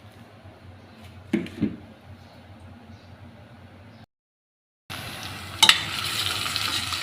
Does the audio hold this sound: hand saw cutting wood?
no